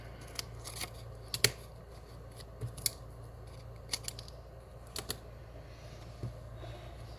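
Scissors snip through cardstock while a spinner greeting card is being made, giving a series of short, crisp, close cuts at uneven intervals against a quiet room.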